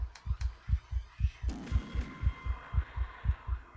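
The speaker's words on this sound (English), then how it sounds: "You got the heart beating." A heartbeat effect in the horror video game Boogie Man throbs steadily as a regular, deep double-pulse that quickens slightly. A brief rushing swell passes midway through.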